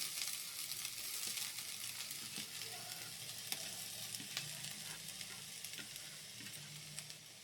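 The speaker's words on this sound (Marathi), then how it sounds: "आता हे सारखं आपण ढवळत राहायचं, मिक्स करायचं सगळं." Grated coconut is stirred in a dry pan for coconut barfi, making a quiet, steady hiss of toasting with faint scrapes and light taps from the spoon, close and continuous without talk.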